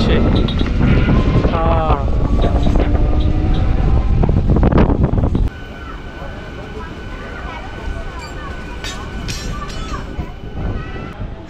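A train pulls into Tarakeswar railway station with a loud, rumbling roar for several seconds. It then drops to a quieter station scene with humming tones and scattered voices.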